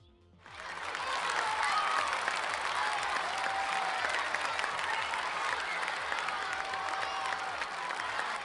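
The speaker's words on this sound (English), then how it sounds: "Round of applause, everybody." Sustained applause from a group celebrating the completed LEGO Super Mario Piranha Plant and Game Boy build, starting abruptly and continuing steadily loud throughout, with some speech mixed in.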